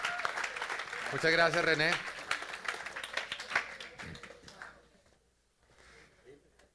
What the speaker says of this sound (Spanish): un fuerte aplauso al Señor por lo que hizo